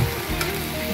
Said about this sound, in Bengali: একদিকে ভেন্ডি ভাজা হচ্ছে